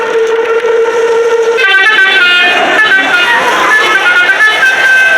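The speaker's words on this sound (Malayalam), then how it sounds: "ഇതേമാതിരി ഒരു ഹോൺ ഞാൻ ഡെയിലി രാവിലെ എണീക്കുമ്പോ കേൾക്കുന്നതാണല്ലോ." A vehicle horn sounds in a film scene, with loud, sustained tonal blasts that shift pitch partway through, layered over a dense, continuous background.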